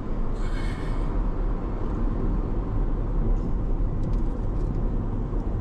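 A car drives and accelerates, heard from inside the cabin as a steady low road and engine rumble that holds constant the whole time, with faint wind noise above it.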